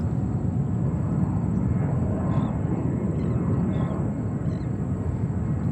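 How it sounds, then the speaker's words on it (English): Royal Air Maroc airliner taxiing at JFK airport, a steady loud broadband jet engine roar with low rumble throughout, a constant high whine above and faint intermittent chirps. "Looks like we also have Royal Air Maroc taxiing to"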